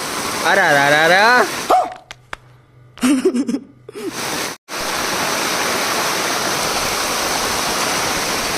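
Rainwater rushes loudly and steadily through a village channel during heavy rain, a broad continuous roar, with a voice breaking in briefly near the start before the flow takes over.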